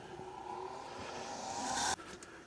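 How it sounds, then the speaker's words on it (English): A motor-driven wire wheel works on a 1950 Coleman pump, whirring with a rising whine that climbs steadily over a rough brushing hiss, then cuts off abruptly into a fading spin-down. "We'll hit it up on the wire wheel."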